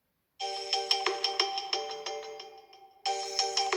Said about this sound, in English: now I'm looking for a ringtone in here.